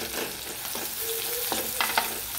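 Crushed garlic cloves and onion frying in a pan, a steady close sizzle with a few soft stirring scrapes, no voices.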